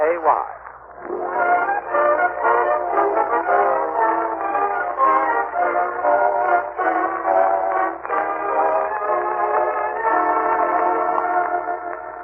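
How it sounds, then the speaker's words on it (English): Train sound effect for a railroad station scene in an old-time radio comedy: a sustained, wavering horn-like whistle chord holding steady for several seconds over a low rumble, moderately loud and heard alone. "As he and Marjorie and Leroy wait in the Summerfield Railroad Station for the arrival of that well-known authoress, lecturer, and second cousin, Octavia Gilder"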